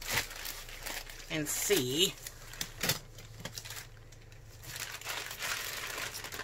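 Crinkling and crumpling of plastic wrap as a diamond painting package is cut open and unwrapped, close and moderately loud in short bursts, with a voice speaking briefly over it.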